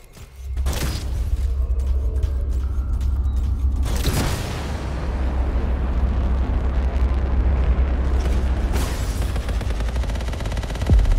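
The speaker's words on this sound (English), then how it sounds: "The explosion could have activated a failsafe mode." Explosion in the video game Anthem: loud sustained rumbling blast with sharp cracks near the start, around four seconds and again near the end, a continuous roaring wash throughout, no speech.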